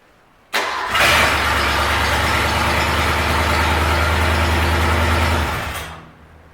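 A MasterCraft boat motor cranks and catches, then runs at a loud, steady rumbling idle for several seconds before winding down.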